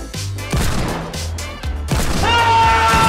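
Booming explosions and gunfire crack in the Fortnite video game, several loud heavy blasts in quick succession with ringing tones at the end, dense and close.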